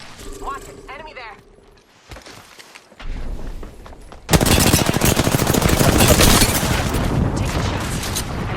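Rapid automatic gunfire in Apex Legends, a dense, loud stream of shots that starts abruptly after quieter moments and continues steadily to the end, with brief game sounds before it.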